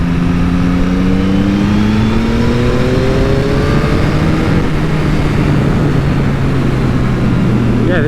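A Yamaha MT-09 motorcycle revs hard while being ridden. Its loud, close engine drone climbs in pitch over the first few seconds and then holds steady under constant wind roar.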